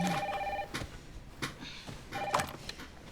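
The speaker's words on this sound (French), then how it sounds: "Maman, téléphone." A telephone rings in the video game Resident Evil Requiem, with a short electronic ring at the start and a second ring about two seconds later, separated by soft clicks and thuds.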